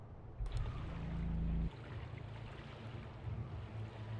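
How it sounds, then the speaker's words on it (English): Wind gusting around a summer cottage by the water in the video game I'm on Observation Duty 6, a broad steady rush with a heavier low swell near the start, quiet and with no voices. "does it sound like the wind has picked up a bit?"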